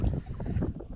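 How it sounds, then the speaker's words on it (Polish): Strong, cold wind blowing across open farm fields, a continuous close buffeting rumble against the microphone with no speech. "Straszny wiatr"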